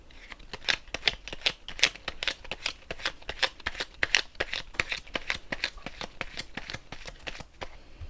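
Tarot cards are shuffled in a long run of quick, crisp riffles and soft slaps. They come rapidly at an uneven rhythm, close and clear, with no voice.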